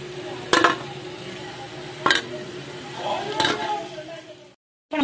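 Rice flour ring murukku deep-frying in hot oil, a steady low bubbling with three sharp clatters of a utensil against the pan, then a brief silence.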